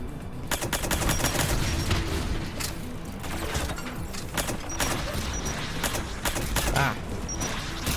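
Turret gunfire in the Mass Effect 3 video game, a dense, continuous rattle of rapid shots and fusillade bursts that stays loud and busy for the whole stretch, with no voices over it.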